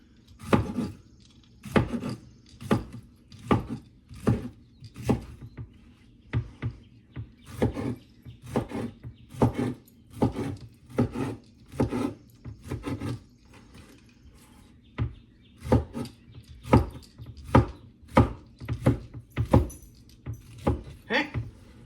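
A knife slices food on a cutting board in a steady run of crisp, close chops, each one a sharp knock, with brief pauses between bursts.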